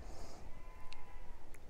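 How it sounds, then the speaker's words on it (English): Sheep bleating from somewhere off to the side, with a couple of short, fairly faint calls over a quiet outdoor background and no speech. "You hear my little sheep over there having such a good old shout today"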